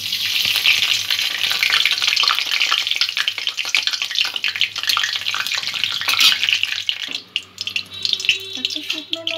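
Whole spices, cloves, cinnamon and a broken bay leaf, fry in oil over a medium-low gas flame as tempering for chicken kalia, giving a loud, continuous crackling sizzle with stirring that quietens toward the end.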